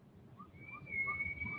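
A short, thin whistled tone, steady and sustained over a low rumbling background, fairly faint and heard alone without talk.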